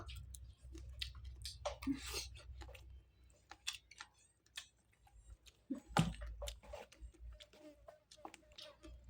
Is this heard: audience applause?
no